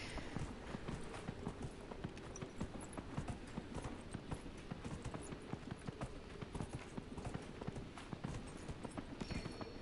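Horse hooves clip-clop at a steady trot in the fantasy video game Dragon Age Inquisition, a continuous rhythmic patter at low volume with no talking.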